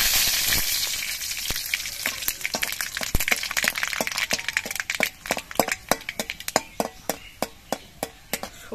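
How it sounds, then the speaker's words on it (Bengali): Mustard seeds and dried red chillies frying in hot oil for a tempering, a loud crackling sizzle that settles into a quicker run of sharp pops, close and alone. "তার জন্য আমি অল্প একটু সর্ষে ফোড়ন দিচ্ছি।"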